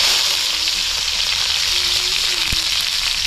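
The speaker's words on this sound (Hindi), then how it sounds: "इसमें डालते हैं लहसुन और हरी मिर्च कटा हुआ।" Chopped garlic and green chili hit hot mustard oil and sizzle steadily up close, a dense continuous hiss from start to finish.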